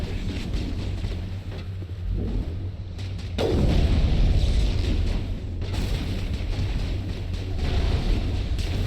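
Gunfire in the Mass Effect video game, heard as a dense, continuous roar of shots and blasts that swells louder in the middle and stays busy throughout, with no talking.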